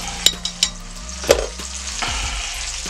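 Minced garlic sizzles in a hot pan with pork chops, a steady hiss broken by a few sharp clinks and scraping stir sounds, close and alone.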